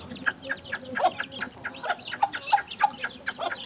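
Chickens cluck on a backyard flock being fed, a run of short, rhythmic clucks and calls close by at moderate loudness, with soft background noise and no talk.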